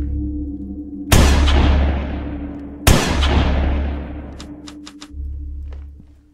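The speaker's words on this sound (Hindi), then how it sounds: "इसको भी शूट करना है गन से ही" Two loud gunshots with long reverberant decays fire about two seconds apart in the horror video game Granny 4: The Rebellion, followed by a few short, high-pitched ticks.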